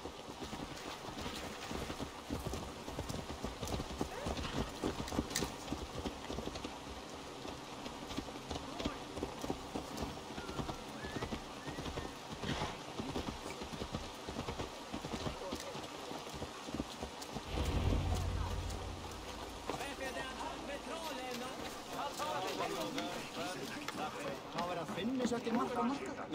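Horse hooves clip-clop in Assassin's Creed Valhalla, a steady rhythmic trot running the whole time beneath game music, wind and spoken dialogue, with a brief low rumble midway.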